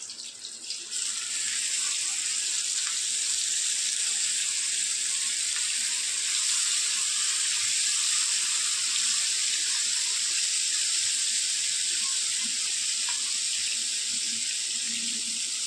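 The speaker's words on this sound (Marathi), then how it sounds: "एक बाजू छान फ्राय होऊ दे." Steady, loud sizzling of pink perch fish frying in shallow oil in a pan on a gas stove, an even continuous hiss throughout with no talking.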